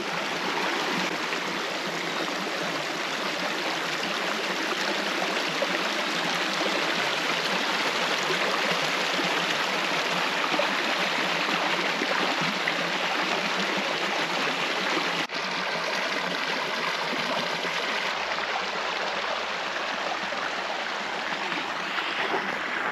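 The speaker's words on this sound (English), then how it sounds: "And this is where Swift's Creek joins the Tambo River." Swift's Creek rushes steadily where it meets the Tambo River in the Victorian High Country, a continuous broad wash of flowing water that stays close and loud for the whole stretch, with no voices.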